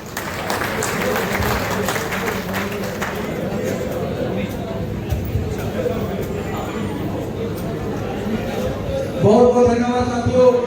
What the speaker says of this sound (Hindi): और संतगण बाबा साहब अम्बेडकर जी के चरणों में पुष्पांजलि अर्पित करते हुए तालियां को बजाते हुए